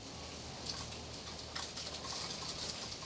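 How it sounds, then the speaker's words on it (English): Rain and hail in a cozy exploration puzzle video game: a steady, fairly quiet wash of pattering with scattered sharp little ticks and taps across the whole stretch, no voices over it. "Oh wow, can you hear that rain?"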